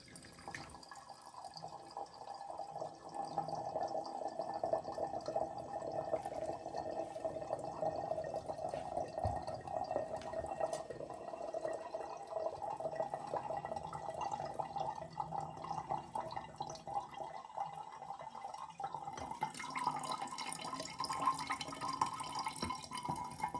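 Homemade vinegar strained through a filter, producing a steady faint trickle and drip of liquid that runs continuously and quietly for over twenty seconds without talk.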